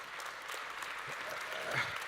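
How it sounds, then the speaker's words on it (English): Faint, distant applause from an audience at a panel discussion, a soft, steady wash of many hands clapping. "A round of applause,"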